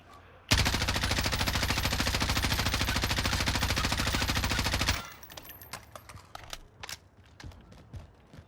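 Sustained automatic fire from an M4 or M13 rifle in Warzone, a rapid, even stream of loud shots lasting about four and a half seconds, then a scatter of lighter clicks and clinks.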